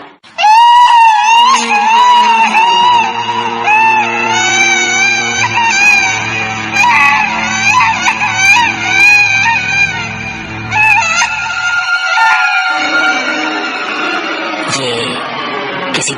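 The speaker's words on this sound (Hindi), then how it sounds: "ये किसी बच्चे के रोने की आवाज थी।" A child's crying echoes up from inside a well, loud and continuous with wavering high wails, set over a sustained low musical drone.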